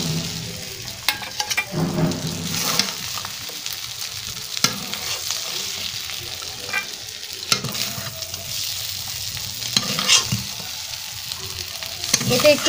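Prawns fry in a pan with a steady crackling sizzle and occasional stirring clatter, close and continuous throughout, with no talking.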